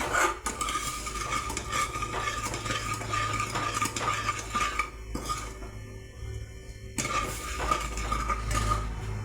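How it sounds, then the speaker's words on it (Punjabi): A spoon stirs a thickening barfi mixture of crumbled leftover rotis in a pan, scraping and clinking against the metal in steady, continuous strokes, close and fairly loud with no talking. "ਇਦਾਂ ਹਲਾਈ ਜਾਣਾ ਜਦ ਤੱਕ ਥੋੜਾ ਜਿਹਾ ਗਾੜਾ ਹੋਰ ਨਾ ਹੋ ਜੇ"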